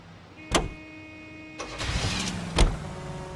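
A car in the LA Noire video game starts with a sharp door or ignition thump, then the engine turns over and revs as it pulls away, loud and close, with another thump near the end.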